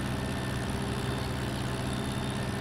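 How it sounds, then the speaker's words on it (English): A loud tractor in Farming Simulator 17 drives through town streets, its engine producing a steady, dense, unbroken rumble at close range with no pauses. "But I guess we are driving a pretty loud tractor through the streets right now."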